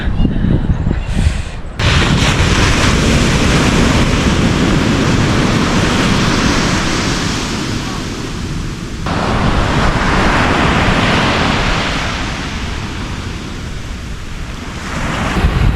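Ocean surf rolls in at a cold beach near Melbourne, a loud, continuous roar of breaking waves mixed with heavy wind buffeting the microphone, surging and easing in long swells.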